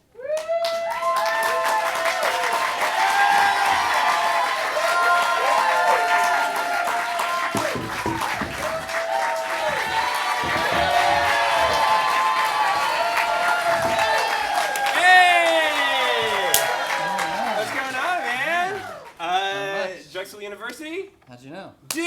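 An audience applauds and cheers for a volunteer being called up, with loud whoops and shouting voices riding over sustained clapping before the noise thins out near the end.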